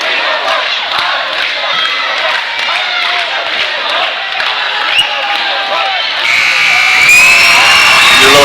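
Home boys basketball game crowd and student section cheering and shouting loudly and continuously, swelling into a louder roar near the end of the final seconds.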